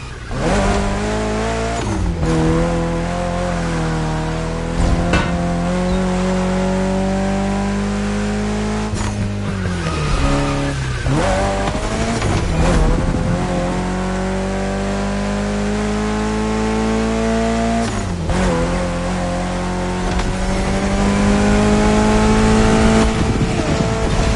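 A car in the racing game The Crew Motorfest drives hard, its engine droning loudly and climbing in pitch through repeated accelerations, with sharp drops at each gear change and no talk over it.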